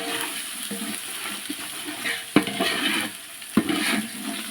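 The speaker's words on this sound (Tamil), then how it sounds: "இப்போது நம்ம தனி மிளகாத்தூள் இதில் ஆட் பண்ணிக்கலாம்." Chili powder is stirred into frying beef biryani in a pan, giving a close sizzle with scraping stirs and two sharper clanks of a spoon against the pot.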